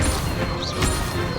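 Incendio fire spell cast in Hogwarts Legacy, a brief dense burst of crackling, whooshing flame with a crash-like impact, loud and close, over faint game background.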